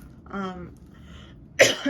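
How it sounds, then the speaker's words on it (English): A single short, sharp cough bursts out near the end, following a moment of quiet voiced sound. "I just coughed"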